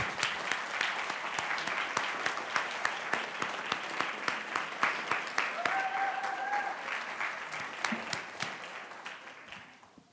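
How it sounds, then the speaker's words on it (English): Seated attendees at a school board recognition session give a sustained round of clapping, dense and crisp at moderate distance, slowly thinning and fading toward the end. "Let's give you a nice round of applause"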